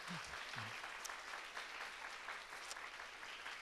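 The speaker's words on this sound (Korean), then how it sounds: "이 자리에 오게 해주신 주님 앞에 우리 감사의 박수" Congregation clapping in thanks during a Friday night gospel worship service in a church, a steady dense wash of applause that holds for several seconds with a few brief voices near the start.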